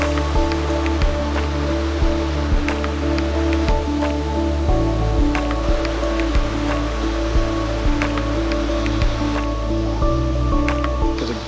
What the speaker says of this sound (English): Gorgeous, gorgeous waterfall just here, right by the path.